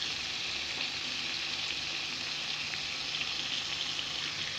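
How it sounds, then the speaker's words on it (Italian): Cherry tomatoes and black olives fry in a pan for chicken puttanesca, giving a steady, dense sizzle with faint pops throughout and no talk. "versate i pomodorini e le olive nere"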